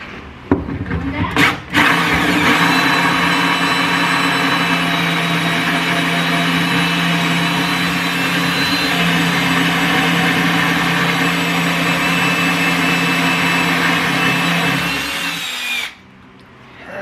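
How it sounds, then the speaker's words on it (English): A power drill runs steadily for about fifteen seconds, a loud continuous whine grinding through a refrigerator's metal panel, then cuts off abruptly near the end. "So this drill bit pokes through and then do it from the back side or the inside."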